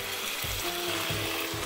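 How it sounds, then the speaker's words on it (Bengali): Turmeric, red chili powder and curry powder fry in a pan for a Bangladeshi chatpati recipe, a steady close sizzle with a rhythmic scraping and stirring pulse underneath and no talk. "লাল মরিচের পাউডার এবং কারি পাউডার 1/2 টিস্পুন দিয়ে আবারও এগুলোকে কষিয়ে নিচ্ছি"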